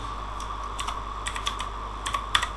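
Keystrokes on a computer keyboard while a Gmail address is typed in, sounding as quiet, irregular clusters of clicks over a steady low hum, with no talking.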